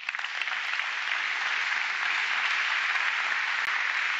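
Church congregation applause during a sermon, a loud, sustained and even roar of many hands clapping that holds steady from start to finish.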